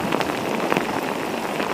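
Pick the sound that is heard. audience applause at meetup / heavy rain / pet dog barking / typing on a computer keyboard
heavy rain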